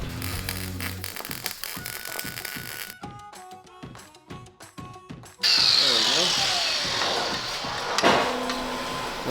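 A power tool works the bolts on a Jeepster steering box, with rapid ratcheting bursts and a loud sustained whir, close by and mixed with clanks in a garage.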